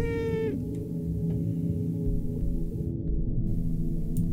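A cartoon cat meows in the video game Cat Museum, a single bright meow at the start followed by a steady game soundtrack with faint tonal blips.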